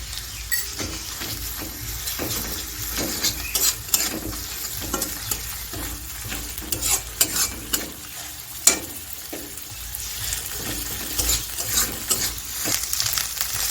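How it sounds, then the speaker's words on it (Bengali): Onion and ginger paste stir-fry in a pan with a continuous close sizzle. Steady spatula scrapes and occasional metallic clinks mark an uneven rhythm, with no voices. "পেঁয়াজ আর আদাটা আমার হালকা করে ভাজা হয়ে গেছে"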